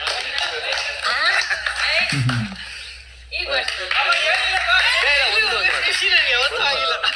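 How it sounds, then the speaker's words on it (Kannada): Loud clapping from a studio crowd on the Bigg Boss Kannada season 10 reality show, mixed with voices and scattered laughter, briefly dipping near the middle before swelling again. "ಜೋರಾದ ಚಪ್ಪಾಳೆ ಬಂದೆ"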